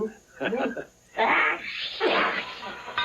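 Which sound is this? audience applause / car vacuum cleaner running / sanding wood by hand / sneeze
sneeze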